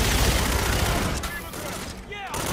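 Rapid automatic gunfire in Call of Duty: Infinite Warfare rattles loud and dense for over a second, then breaks into scattered shots and whooshing game effects.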